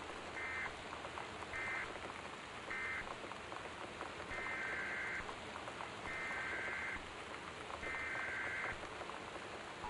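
Steady rain falls throughout in the game Gone Home during a severe storm with high winds, a constant wash with no voices, broken by a repeating electronic tone in short then longer bursts.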